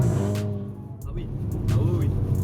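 A 300 hp Volkswagen Golf GTI engine while driving, a steady moderate in-cabin drone that swells slightly toward the end, heard beneath people talking.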